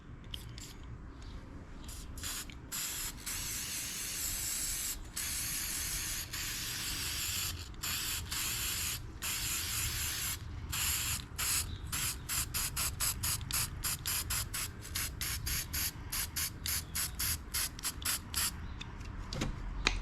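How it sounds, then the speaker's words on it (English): A spray paint can hisses in repeated bursts, short and long, with quiet gaps between and faster sputtering sprays toward the end, spraying a light coat over a gun case. "I'm going to try and give this a light spray paint over"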